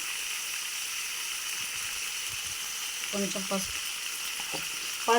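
Food with a pinch of turmeric frying in a pan until it colours, giving a steady, even sizzle and hiss throughout, with a few brief voice-like sounds midway and near the end.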